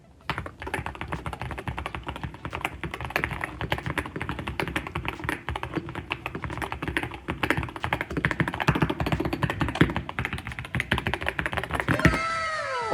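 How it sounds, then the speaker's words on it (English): Rapid, continuous clicking of a Keychron K2 mechanical keyboard being typed on, close and steady throughout with no voices. "let's just jump into a sound test here"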